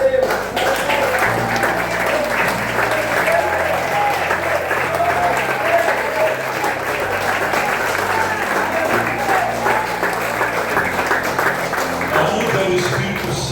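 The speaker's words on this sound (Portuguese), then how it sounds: "vamos aplaudir o Senhor mais uma vez" A standing church congregation applauds during a worship service, continuous clapping over a sustained organ or keyboard chord, with a voice briefly audible beneath.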